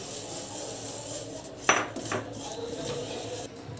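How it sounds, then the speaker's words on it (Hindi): Rice flour lightly roasting in a pan over medium heat while being stirred for coconut ladoo, a soft background hiss with one sharp metallic clink of a spoon and a few quieter scrapes. "हल्का सा भून रही हूँ मैं।"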